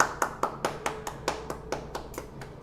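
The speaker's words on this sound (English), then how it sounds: "Let's all clap together." A small group claps together in a loose, fairly even rhythm, about a dozen distinct claps close to the microphone, with no talking over them.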